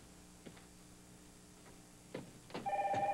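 Telephone in the video game Another World, a few soft ticks and clicks before an electronic ring starts near the end, tonal and steady, alone without talk.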